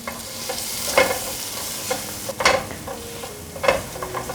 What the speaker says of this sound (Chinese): 小番茄略炒一下